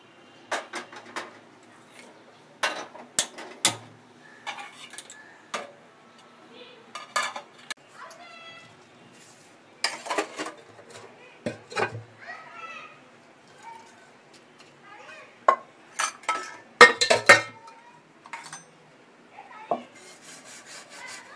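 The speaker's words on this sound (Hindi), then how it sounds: "बर्तन हो चुके हैं, अभी मैं सिंक साफ कर रही हूँ।" Dishes clattering and a kitchen sink being scrubbed clean at home, with sharp scattered clinks of steel pots and utensils, rubbing, and running water, close and intermittent, with someone talking now and then between the sounds.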